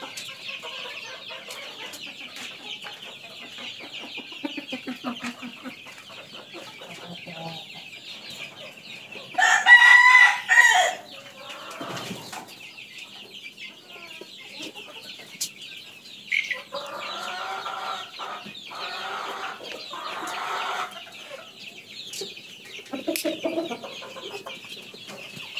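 Chickens on a poultry farm, drinking water after a Gumboro booster vaccination, cluck steadily throughout, with a louder burst of rooster-like crowing in the middle and scattered near clucks and calls, no talk.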